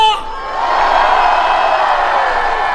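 A large crowd at a political rally roars with shouts and cheers, a loud, sustained wall of voices that swells after a brief opening and holds steady.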